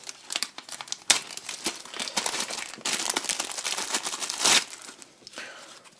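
Plastic packaging for GoPro Session accessories crinkles and tears as it is opened up close, in irregular bursts of rustling with a few sharper rips, and no voices are heard.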